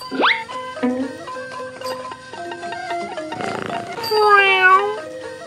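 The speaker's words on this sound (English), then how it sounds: "A cat!" A cartoon cat meows in a string of bright, stylized calls over a light musical backing with boings, ending in a louder rising meow near the close.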